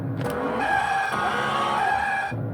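A 2005 New Bright 1/6-scale 12-volt Cadillac Escalade RC car with a big brushed motor drives along, its electric motor giving a loud, steady high whine with gear hum, starting and stopping abruptly.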